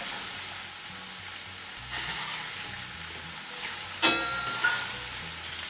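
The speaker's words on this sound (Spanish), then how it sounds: "Ahora con ayuda de una pinza vamos a darle la vuelta a nuestro osobuco." Ossobuco searing in oil in a pan, turned over with tongs, gives a steady close sizzle and frying hiss, with a sharp burst of spattering as the meat is flipped partway through.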